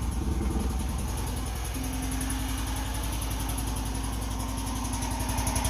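A BMW Isetta microcar's small engine runs steadily at idle close by, giving a continuous low putter with a faint rising note early on and no voices.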